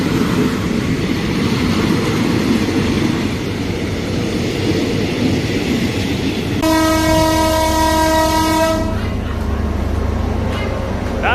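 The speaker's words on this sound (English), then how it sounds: "here's our train arriving" An orange passenger train rumbles and clatters nearby, then a loud horn blasts for a couple of seconds before the rolling noise continues.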